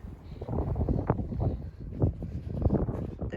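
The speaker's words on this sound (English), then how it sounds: "It's windy." Gusts of wind buffet and rumble across the microphone outdoors around an abandoned schoolhouse with a steeple, the blustery noise swelling and easing unevenly and fairly close, with no voices heard.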